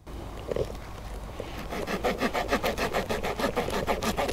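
A small multitool saw rasps back and forth through wood outdoors, slow at first, then in steady, quick strokes, close and alone.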